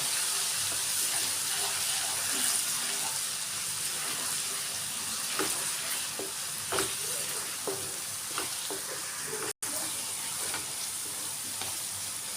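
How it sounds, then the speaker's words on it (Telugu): Ginger garlic paste frying in hot oil for a mutton curry, a loud steady sizzle with occasional stirring scrapes and clicks close by, no talk. "ఇది నూనెలో మంచిగా ఫ్రై అవ్వాలి"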